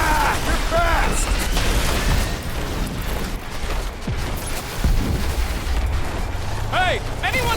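Explosions and gunfire-like blasts erupt all around during combat in the Guardians of the Galaxy video game, a dense, continuous barrage of booms and rumbling with game voices speaking over it.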